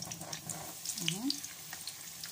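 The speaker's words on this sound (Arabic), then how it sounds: "هنقليها مع بعض اهي، والزيت قلع اهو" Samosas frying in hot oil give a soft, continuous crackle with scattered small pops, fairly quiet, with a brief voice over it.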